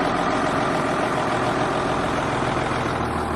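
A plugged-in, warmed-up diesel truck engine idles steadily and loudly nearby, a continuous low rumble with no other sounds over it, on a farm ahead of hauling a load of corn.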